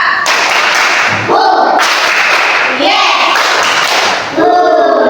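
Schoolchildren in an Indonesian classroom clap a counted pattern of one, then two, then three claps. Loud, sharp bursts come in uneven groups, close by, with children's voices chanting between them.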